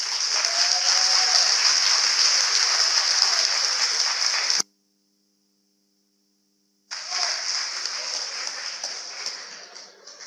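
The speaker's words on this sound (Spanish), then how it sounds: "Un aplauso." An audience applauds at the close of an interview, dense, even clapping that cuts to silence for about two seconds, then resumes and slowly thins out.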